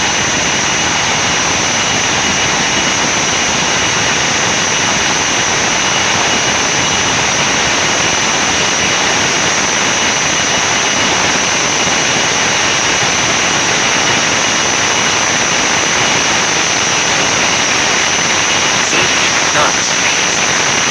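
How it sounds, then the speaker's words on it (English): An Emirates airliner's jet engines roar at high thrust during the takeoff roll at Dubai airport, a loud, continuous broadband rush heard from inside without letup. "Clear for takeoff runway 30 right."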